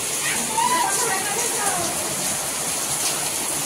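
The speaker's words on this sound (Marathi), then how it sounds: "आता बघा पावसाने जोर धरलाय." Heavy monsoon rain pouring steadily in a village setting, a dense hiss that fills the whole stretch at an even level, with faint voices underneath.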